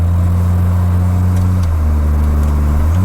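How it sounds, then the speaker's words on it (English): A 2JZ-swapped Mercedes W124 engine pulls hard in a loud, steady low drone with a shift in pitch partway through as the car accelerates and the rear end steps out, close by. "I got into it pretty hard at like 15 miles an hour and blew the rear end loose"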